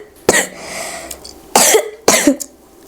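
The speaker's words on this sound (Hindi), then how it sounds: "तुम्हारी खांसी अभी तक सही नहीं हुई है" Three sharp, separate coughs from one person burst out close and loud, with short quiet gaps between them and no talking.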